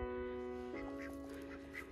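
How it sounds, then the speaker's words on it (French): Ducks quack softly in a short burst of a few calls over a steady background hum. "Les petits canards vont bien."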